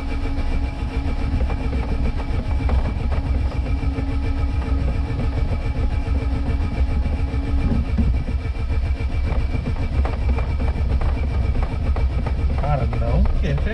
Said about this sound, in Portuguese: vocês estão vendo o tempo que eu tô tentando pra dar partida nesse carro aqui